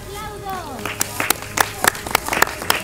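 Scattered hand claps from a small group at a televised competition elimination duel, uneven and fairly close, with a voice speaking over the start.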